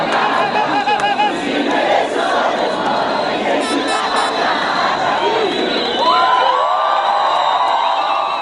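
A large crowd of protesters fills a city avenue with loud chanting and shouting, led by a sound truck, against spending on stadiums and the World Cup. The roar holds steady and close throughout, with brief whistles and a rising siren-like tone later.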